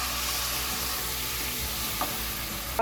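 Malvani masala paste frying with onions in a pan, a steady close hiss and sizzle throughout with a faint scrape near the end, no talking.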